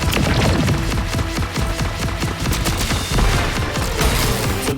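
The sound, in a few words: homing missiles weapon firing in video game Contra Operation Galuga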